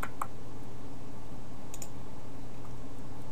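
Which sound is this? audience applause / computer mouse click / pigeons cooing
computer mouse click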